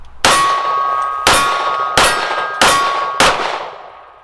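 Five 9mm shots from a Kimber KDS9c pistol ringing off a steel silhouette target at 12 yards, each a sharp clang with a lingering metallic ring, spaced under a second apart.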